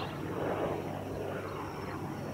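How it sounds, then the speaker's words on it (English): Steady, loud aircraft drone fills the air continuously, a helicopter passing overhead near a rural property during monsoon rain season, with a broad rumbling engine noise and no speech. "Why are there helicopters flying around here?"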